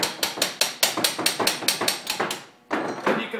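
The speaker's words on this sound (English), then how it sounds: "You can tap on this head assembly." A small brass hammer taps on a metal clutch head assembly: a quick, even run of about a dozen sharp, close knocks, a short pause, then a few more taps.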